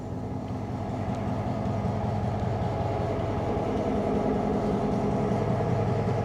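A powered-up Kansas City Southern locomotive rolls past in downtown Corinth, Mississippi, giving a steady, loud rumble of engine and rail noise that holds evenly throughout with no voices.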